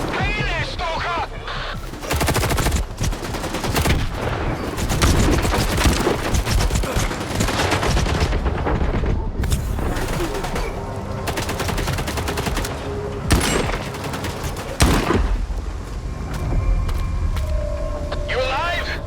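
Dense bursts of automatic gunfire and single shots from the video game STALKER 2: Heart of Chornobyl, loud and continuous, mixed with vehicle rumble, crashes and shouted voices throughout.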